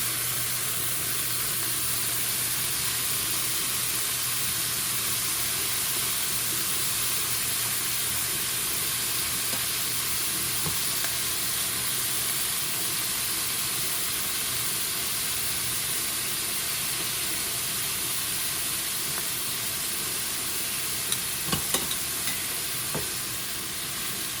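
Venison heart frying in a hot pan, giving a steady, even sizzle and hiss that holds throughout, with a few faint clinks near the end.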